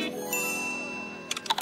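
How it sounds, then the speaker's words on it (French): A single school bell dings with a clear ringing tone that slowly decays, followed by a few faint tinkling notes at the end. "la cloche a sonné"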